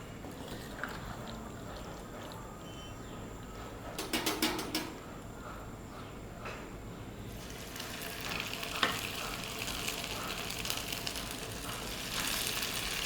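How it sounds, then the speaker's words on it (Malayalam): Chicken pieces are dropped into hot oil for Kerala kanthari chicken, a steady sizzle rising to a louder, brighter fry as they go in, with occasional utensil clicks and no talking. "അപ്പോൾ നമ്മുടെ എണ്ണ ചൂടായിട്ടുണ്ട് നമുക്ക് ചിക്കൻ ദാ ഇങ്ങോട്ട് ഇട്ട് കൊടുക്കാം"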